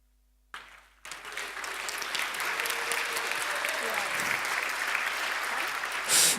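Sustained applause from an audience at a tech conference talk, steady clapping that starts suddenly and continues for several seconds without pause.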